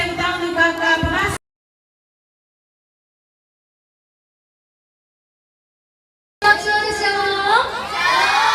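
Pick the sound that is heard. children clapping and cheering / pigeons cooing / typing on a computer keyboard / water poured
children clapping and cheering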